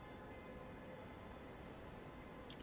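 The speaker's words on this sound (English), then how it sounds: "rain is falling." Steady rain falling in the Mind Over Magic video game, a continuous even hiss with no breaks and no talk.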